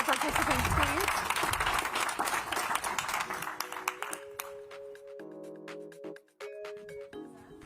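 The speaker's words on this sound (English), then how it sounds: "a round of applause for our participants, please" An audience applauds panel participants at the close of a business technology event, with loud clapping that tapers off and gives way to a short chime-like musical sting.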